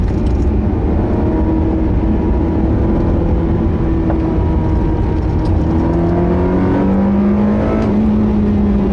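A sports car engine, a Ferrari 360 or Porsche 911, drones loud and steady from inside the car while driving, with the pitch rising smoothly as it accelerates near the end; no talking.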